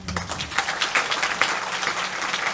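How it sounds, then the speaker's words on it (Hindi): An audience at a Mata Ki Chowki celebration claps for a grandfather and grandmother, a dense, lively round of many hands clapping close by, with a brief voice at the very start. "जरा दादा दादी के लिए ताली बजा दीजिए।"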